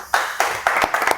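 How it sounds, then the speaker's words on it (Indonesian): A few people clap hands during a casual podcast visit at a naval aviation center, giving five distinct bursts of claps at an uneven rhythm, close and fairly loud. "Tepuk tangan dulu."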